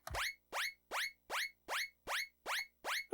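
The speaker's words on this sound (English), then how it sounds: "That's actually an okay siren." A synthetic whooping siren tone generated in Commodore 64 BASIC repeats eight times in an even rhythm, each rising sweep separated by a short silence, clear and alone.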